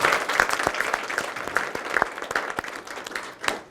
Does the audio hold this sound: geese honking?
no